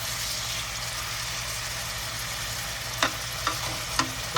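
Rosemary and oregano chicken pieces fry in a pan with a steady, close sizzle, and a few light knocks of a utensil come near the end as the pieces are flipped to brown.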